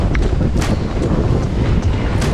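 Wind blows steadily outdoors at a motorcycle enduro event, a continuous broadband rush and buffeting across the microphone, loud and constant throughout with no voices.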